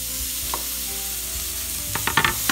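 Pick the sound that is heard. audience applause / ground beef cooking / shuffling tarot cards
ground beef cooking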